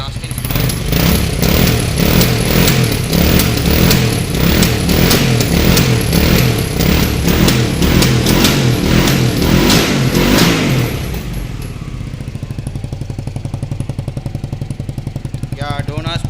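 A Hyosung GT650R motorcycle engine, started after a long period of disuse, runs loud and close with a steady rhythmic idle throb, then settles into a quieter, even pulsing idle for the final seconds.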